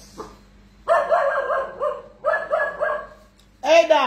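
A dog barks in several loud, close bursts of harmonic yelps, grouped in quick runs with short pauses, a person talking faintly around them during an early morning at home.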